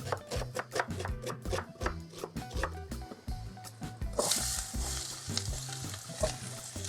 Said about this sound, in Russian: Обжариваю лук до золотистого цвета.